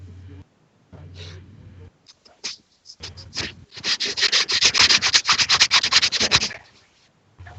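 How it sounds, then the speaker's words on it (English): Coarse sandpaper rubbing in quick rhythmic back-and-forth strokes, building to a dense scratchy burst of about a dozen passes, close and fairly loud, preceded by breathy noises. "put the sandpaper away"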